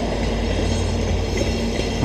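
A long freight train with many cars rolls past nearby in winter, a loud, continuous heavy rumble of wheels on rails with a steady mechanical drone and no talk.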